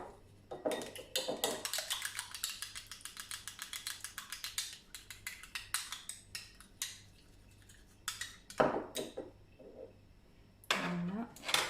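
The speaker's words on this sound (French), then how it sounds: "battre un jaune d'œuf avec une cuillère à soupe de lait" Egg yolk and a spoonful of milk beaten with a spoon in a bowl while making hamburger buns: rapid regular clinking taps in a steady run, then a few sharper knocks, quiet and close.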